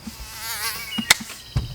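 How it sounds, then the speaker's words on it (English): Mosquitoes whine close by inside a truck cap camper, a thin wavering buzz with a few sharp clicks and taps. "Mosquitoes."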